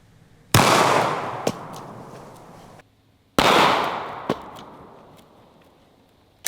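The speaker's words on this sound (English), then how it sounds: "the sound of a 10 millimeter is a lot different than a 9 millimeter" Two sharp, loud 10mm pistol shots a few seconds apart, each with a long echoing tail, plus lighter clicks and clatter between them.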